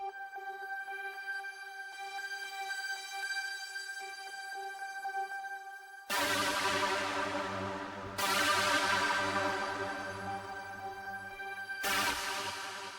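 A bright square-wave synth arpeggio with chorus, layered shimmering tones and a hiss of pink noise, followed by fuller chords with sharp attacks and a deep low end.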